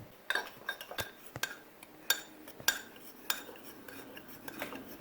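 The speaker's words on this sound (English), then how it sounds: "Now with a fork, you are going to stir this until well combined." A fork stirs brownie batter in a mug, scraping and clinking against the ceramic in irregular bursts of sharp taps, close and fairly quiet, with no talking.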